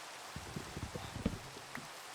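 Rain falls in the Minecraft survival world as a steady, soft hiss, with a few faint low taps and thuds scattered through it.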